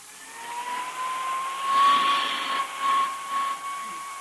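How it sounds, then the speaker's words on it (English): A hand vacuum cleaner runs over a coat as a radio drama sound effect, a steady whining hiss with a high tone that swells and dips slightly as it passes over the fabric, close and continuous. "Say, Dick, what's the point of going over that coat with a hand vacuum?"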